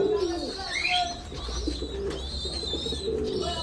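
Red Lahori fancy pigeons coo repeatedly in a busy loft, soft throaty calls layered with chirps from other birds and faint background voices.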